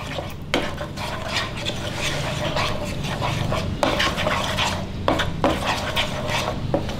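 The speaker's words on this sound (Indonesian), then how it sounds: "kita aduk-aduk sampai airnya agak sedikit menyusut" Sugar, salt and water being stirred in a pan for a thick sauce, with a utensil scraping and clinking against the pan in uneven strokes and a soft sizzle of the heating liquid, close and alone.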